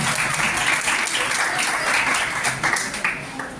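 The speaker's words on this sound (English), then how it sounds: "Let us welcome them with a huge round of applause" An audience at a college chemistry department's Ozone Day event breaks into a big round of applause, loud and sustained, a thick wash of many hands clapping at once.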